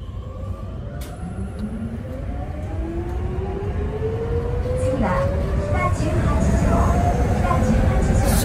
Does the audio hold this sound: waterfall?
no